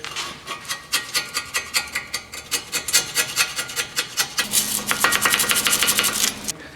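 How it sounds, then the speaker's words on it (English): A small flathead screwdriver scrapes loose rust from the wheel hub of a Honda Civic during a front wheel bearing job, rapid rhythmic rasping strokes close up that grow denser and louder toward the end. "I'm just gonna take a small flathead and kind of just scrape out the last of that loose rust"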